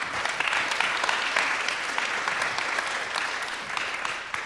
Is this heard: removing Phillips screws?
no